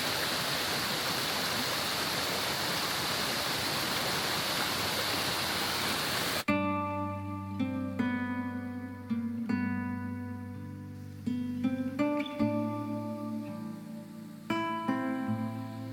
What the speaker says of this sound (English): The waterfall has a significant drop of around 245 feet, making it one of the tallest in New Jersey.